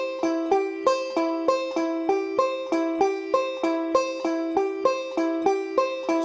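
A banjo picks a steady forward roll, one measure repeated over and over with the first string accented, each bright pluck ringing briefly in an even, close, unbroken rhythm.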